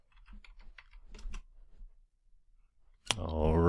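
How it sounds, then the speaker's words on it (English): A password is typed on a computer keyboard in quick bursts of crisp, close keystroke clicks, followed by a short pause before a loud voice starts speaking. "and admin for the password. So type it in again."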